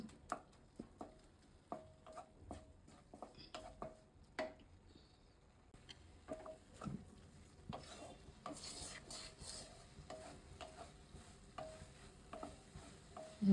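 Chopped onion and dried fish (sidol and chepa shutki) stir-frying in a pan without oil for a mashed bharta, with repeated scraping spatula strokes and a soft sizzle throughout, no one talking.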